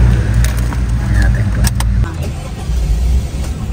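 A Suzuki S-Presso with an automated gear shift (AGS) transmission rumbles close by with a low, steady engine drone that drops slightly partway through, with a few faint clicks from the cabin over it.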